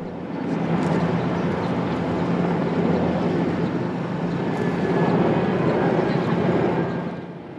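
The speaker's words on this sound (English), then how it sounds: "The Airbus A380 first entered airspace above Victoria Harbour at 8:05 a.m." An Airbus A380 airliner passes low over Victoria Harbour, a broad, steady roar that swells in and holds loud before easing off, heard alone with no talk.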